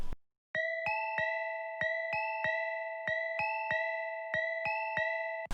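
A bright two-note bell pattern in a hip-hop beat repeats in a steady rhythm, each ringing tone struck sharply and sustained, loud and close with no voices.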